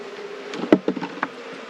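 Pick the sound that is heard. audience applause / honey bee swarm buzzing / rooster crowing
honey bee swarm buzzing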